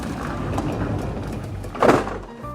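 Large sliding glass doors in a Boynton Beach, Florida house open onto the pool area, giving a low rumbling glide that swells into a brief louder scrape near the end, with no talking.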